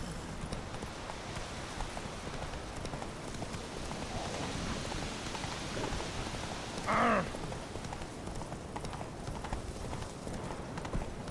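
Hooves of Roach, the horse in The Witcher 3 video game, drum in a steady, continuous galloping rhythm at a fairly low level, with one brief sharper burst midway.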